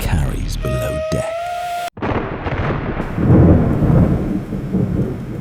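A dark fantasy scene of a thunderstorm with heavy downpour over a ship's deck: dense roaring rain and rumbling thunder, with a whistling tone early on, a brief cut, then swelling low rumble.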